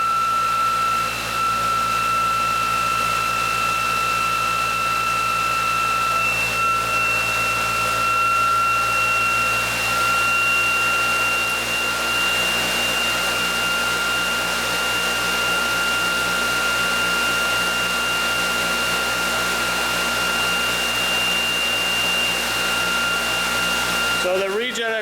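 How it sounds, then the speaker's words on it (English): A ReGen-X quantum motor and generator running under load gives a loud, steady electrical hum with a sustained high whine, unbroken for the whole stretch and briefly disturbed at the very end. "We're back on no load at rotational equilibrium, and I'll put the ReGen-X quantum motor"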